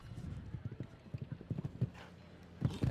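Hooves of a show-jumping horse clip-clop in an irregular series of dull thuds at a moderate distance, with a faint snort and soft background voices.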